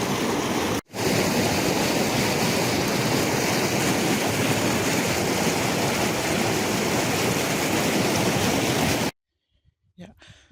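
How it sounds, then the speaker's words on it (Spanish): A small stream of water runs downhill beside working wells in the Ancomarca highland wetlands, a steady, loud, close rushing wash that stops abruptly near the end. "Acá baja un poquito de agua, mira cómo está."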